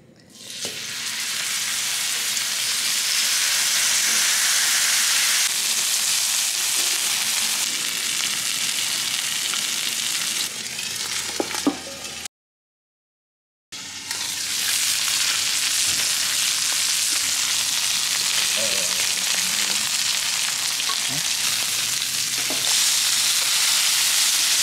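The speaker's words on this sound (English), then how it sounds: "Steak's going on." A steak sizzles loudly on a Blackstone griddle during outdoor cooking, a dense, close, continuous hiss and crackle that holds steady, cuts out for about a second, then resumes at full strength.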